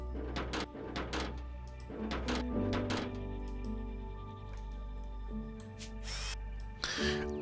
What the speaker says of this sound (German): Ich mache mit einem Akkuschrauber Kabel fest